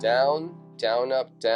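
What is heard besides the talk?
No everyday noise stands out behind the speech.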